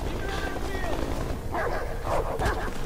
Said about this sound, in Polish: A, pieseł.